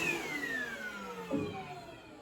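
A vacuum cleaner runs steadily with a whining motor tone that shifts pitch partway through as the power level is changed, close and continuous with no talk.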